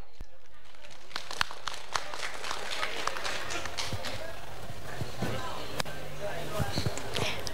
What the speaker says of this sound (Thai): ขอเสียงปรบมือให้กับคุณหญิงรวยหน่อยครับ